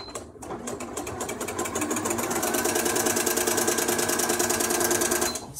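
A Janome sewing machine stitching decorative stitch 18 at maximum speed with the Flower Stitcher attachment: a fast, steady, loud mechanical chatter running several seconds before stopping abruptly.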